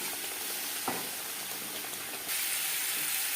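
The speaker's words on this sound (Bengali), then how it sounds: "আলু হালকা করে ভেজে নেব" Potato pieces, seasoned with salt and turmeric, fry in oil in a pan, giving a steady dense sizzle that stays close and continuous and swells louder near the end, with a faint stir partway through.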